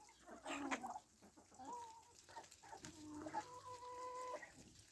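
Geese and ducks calling in a quiet winter farmyard with fresh snow, a few honking and clucking calls spread across the clip, fairly close, with no talking.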